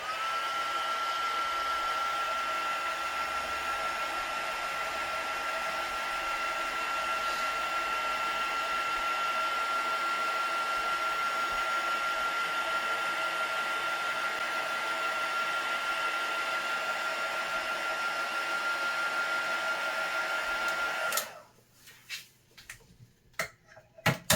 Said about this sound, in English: I'm going to hit it with my heat tool real quick to make sure it's completely dry